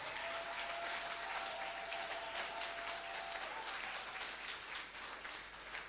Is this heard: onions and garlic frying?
no